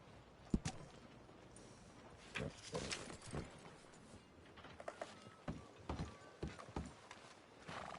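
Horse hooves clip-clop in Red Dead Redemption 2, a faint, uneven run of hoof strikes over a soft background hiss, with a few sharper steps standing out and no talking.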